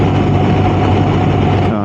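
A BMW R1250RS motorcycle engine idles loudly and steadily close by just after a cold start, a continuous low rumble with no break across the whole stretch.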